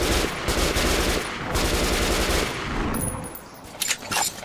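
Rapid bursts of gunfire in Metro Redux, dense automatic fire for several seconds, then sparser sharp shots near the end.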